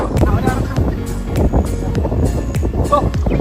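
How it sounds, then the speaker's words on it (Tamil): Strong wind at Parunthumpara viewpoint in Idukki, Kerala, buffets the microphone in loud, rumbling gusts that keep coming without a break, and someone speaks throughout. "அப்படியே காற்று அடிக்குது"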